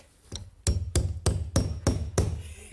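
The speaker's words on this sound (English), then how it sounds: "Get me a hammer and nail, quick." A hammer strikes a nail in a quick series of six or seven sharp, evenly spaced blows, close and distinct, following a faint tap at the start.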